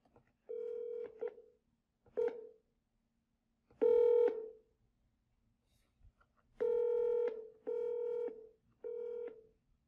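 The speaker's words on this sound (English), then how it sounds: "You can end when the ringtone has been adjusted to the desired level." A Grandstream GXP2135 IP phone plays its ringtone in short bursts of repeated electronic tones while the on-hook ring volume is stepped up and down, each burst separated by brief pauses and standing clear and alone.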